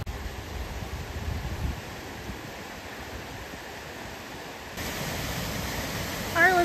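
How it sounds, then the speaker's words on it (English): Small river stream at Glendalough flowing toward a waterfall, a steady broadband rush of water that stays constant throughout, with a slight change in tone near the end. "I think this little river stream thing is what turns into the waterfall."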